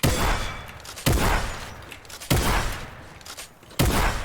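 Gunfire in a zombie video game: four heavy blasts about a second apart, each ringing into a long decaying echo, loud and close, with no voices.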